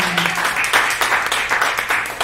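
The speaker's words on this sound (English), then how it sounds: "Clap it up one more time." Audience applause for an artist at a live hosted music night, a steady wash of many hands clapping at close range, continuing evenly throughout without a pause.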